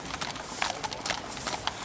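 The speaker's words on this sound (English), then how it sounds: "Here come the horses" Racehorses galloping at the Awapuni races, a rapid irregular drumming of hooves over a broad noisy wash of crowd and outdoor ambience, fairly close and steady throughout.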